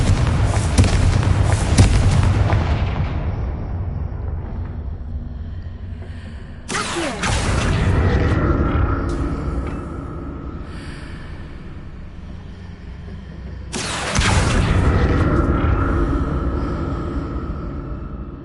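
Three heavy blast-spell explosions go off in the Hogwarts Legacy video game, each a sudden loud boom that fades into a long rumbling decay before the next one, with no voices.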